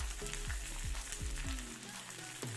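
Onion, peppers, carrot, celery leaves and hot pepper sizzle steadily in a hot pan, with a close, continuous frying hiss and occasional clinks or scrapes from stirring.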